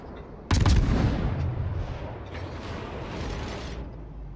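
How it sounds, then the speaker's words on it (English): Naval guns firing in the World of Warships game: a sudden heavy boom with a sharp crack, followed by a long rolling rumble and shell whistle that stays loud for several seconds, with no talk. "It's alright, we're going to keep shooting at this Tirpitz."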